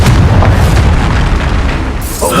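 A Confringo fire spell explodes in Hogwarts Legacy as a loud, sustained boom and rumble filling the moment, closing with a sharp crackling burst, alone with no talking.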